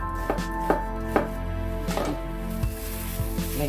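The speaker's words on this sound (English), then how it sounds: "Chop some ginger." A knife chops ginger on a board in a handful of sharp, uneven knocks over a steady background hum, close and fairly quiet, with no voices.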